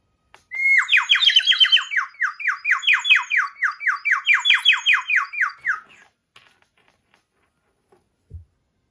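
A water bird whistle warbles in a long run of rapid, bubbling trills for several seconds, then stops, followed by a faint knock.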